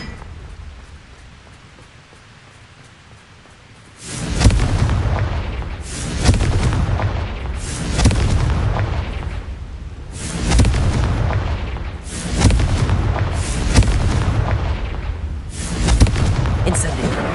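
Bombarda and Confringo spells detonate in Hogwarts Legacy, a series of heavy booming blasts roughly every two seconds after a quieter opening, loud and close with rumbling tails between hits.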